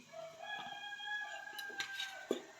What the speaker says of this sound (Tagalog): Tumitilaw pa yung mga manok.